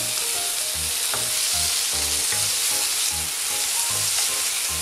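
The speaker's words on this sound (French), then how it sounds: "Quand l'oignon il commence à griller, j'y rajoute le poivron." Onion and bell pepper frying in a pan for braised ham in Basque sauce, a steady loud sizzle with a rhythmic pattern of stirring strokes throughout, no voices.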